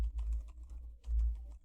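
Quick clatter of keystrokes on a computer keyboard as a Linux command is typed in a short burst, close and fairly soft, with a brief pause midway.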